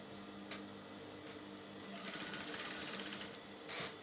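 A sewing machine stitches the side seams of a fabric wrap blouse, running in one loud whirring burst of about a second and a half between quiet pauses and a couple of short clicks.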